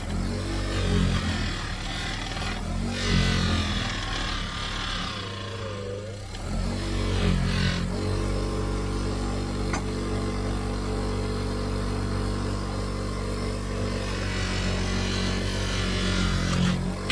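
Bench polisher buffing cleaned BMW E36 valve cover parts, a continuous loud motor drone with a brief dip and changing grinding texture as pieces are pressed against the wheel, no talking.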